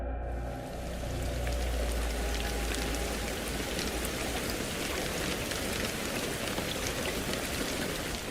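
Torrential rain drums steadily on a roof at night, a dense, loud, unbroken wash of droplets with no voices.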